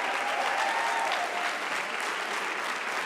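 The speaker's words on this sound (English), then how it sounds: "Can I get a round of applause for all of our facilitators today?" An audience at a closing ceremony applauds its facilitators in a steady, even wash of clapping that holds for the whole stretch without voices.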